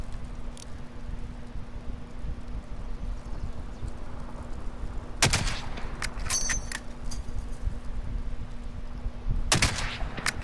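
Gunfire in Call of Duty: Modern Warfare, two loud sharp bursts several seconds apart over a constant low game hum and wind-like background, with a few smaller cracks between them and no talking.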